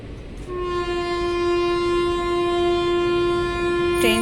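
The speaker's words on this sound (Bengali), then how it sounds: "ট্রেন ছেড়ে দিয়েছে" A departing train sounds a long, steady horn blast close by over a low rumble of rolling wagons, holding for several seconds before ending in a brief rattle.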